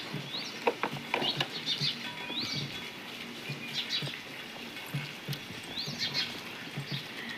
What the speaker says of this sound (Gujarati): એટલો બધો વરસાદ આવ્યો છે